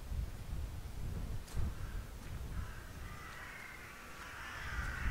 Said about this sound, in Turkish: Aha kargalar burada burada burada.